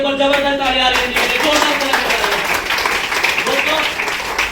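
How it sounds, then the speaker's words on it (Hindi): An audience at a business talk breaks into loud, continuous applause that fills the whole stretch, with voices and cheering mixed in under the clapping. "और जबरदस्त तालियां आ रही हैं।"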